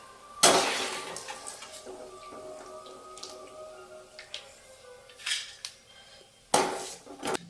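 Fried ginger for an Onam inji curry is scooped from a pan into a bowl, with metal clinks and scrapes and a few louder clattering knocks near the start and end.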